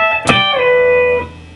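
Electric guitar double stops on the 2nd and 1st strings in a blues lick: one sharp picked attack sliding into a held two-note chord that rings briefly, close and clean with no voices.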